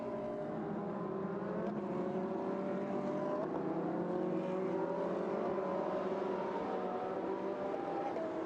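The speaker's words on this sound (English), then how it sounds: "really wields that 458 around a chicane with Babylos following in every single wheel track" Ferrari 458 race cars howl through a chicane at the Monza circuit, a loud, continuous high-revving engine note whose pitch rises and falls steadily as the cars run close together.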